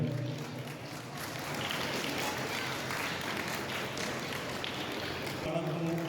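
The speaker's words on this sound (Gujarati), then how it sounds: "તાળીઓમાં આપણે બતાવીએ" Sustained audience applause at a community honour ceremony for bright students in Chhota Udaipur, a dense, steady clapping from a crowd lasting about six seconds, with a voice audible at the start and end.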